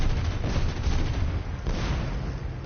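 Aircraft cannon and machine-gun fire, 37 mm and .50 caliber, in a tier 3 plane dogfight in a video game, heard as a dense continuous rumbling burst of shots over engine drone, loud and close throughout.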